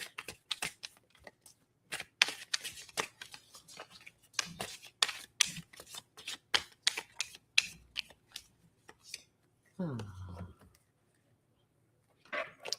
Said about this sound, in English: Please pull a card for me, Tina.